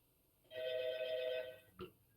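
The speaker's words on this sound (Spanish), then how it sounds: "suenan teléfonos por todos lados." A telephone rings during an online class, one electronic ring of a little over a second, moderately loud over a quiet background, followed by a brief knock.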